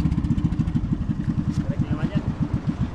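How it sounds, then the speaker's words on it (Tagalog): A motorcycle engine runs at a steady idle after starting, a rapid, even putter of low pulses that stays loud and close, with a voice briefly audible in the background. "Napandara na ng makina."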